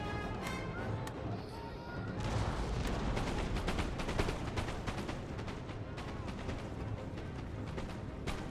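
Napoleonic-era cannon and musket fire in a Napoleon Total War battle, a continuous rumbling barrage of booms and crackling volleys at steady loudness with no voices.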